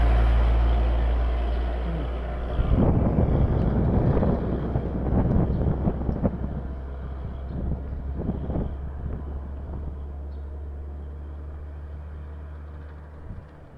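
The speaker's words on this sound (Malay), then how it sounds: "anginnya besar" Strong wind roars and buffets the microphone under a toll road bridge throughout, with louder gusts in the middle and a low engine rumble underneath.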